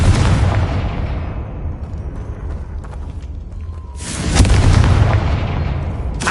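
A Confringo fire spell bursts in Hogwarts Legacy with a loud, deep, rumbling explosion that rolls on and fades, then a second heavy boom hits a few seconds later, with no talk.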